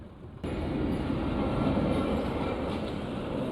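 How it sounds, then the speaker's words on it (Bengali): A train rolls past a level crossing, arriving suddenly and then roaring loud and close. The wheels and cars keep up a dense, steady rumble to the end. "আমরা এখন আছি ট্রেন ক্রসিংয়ে। ট্রেন আসতেছে"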